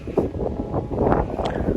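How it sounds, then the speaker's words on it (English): Gusty wind buffets the microphone on an Oxfordshire allotment plot, with a continuous low rumble and roar, fairly loud throughout. "I do hope you can hear me, it's so windy"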